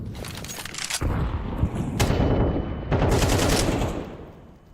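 Grenade and incendiary going off in Counter-Strike 2: a sharp blast followed by roaring, crackling fire and scattered gunfire, loud and close, with several abrupt bursts across a few seconds and no talk.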